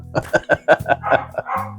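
A dog gives a quick series of short, close, rhythmic yelping howls, rising in pitch like a sung tune, before ending on a longer drawn-out note.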